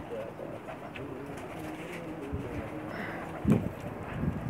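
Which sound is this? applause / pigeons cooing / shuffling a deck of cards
pigeons cooing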